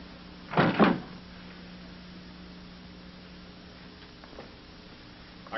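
A door bangs in a quiet room, with two quick knocks close together near the start followed by faint shuffling and no talking.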